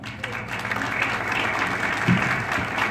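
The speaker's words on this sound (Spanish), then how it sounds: "yo creo que otro aplauso al doctor" An audience at a medical lecture on eye manifestations of rheumatic diseases applauds the doctor, with steady, even clapping filling the hall.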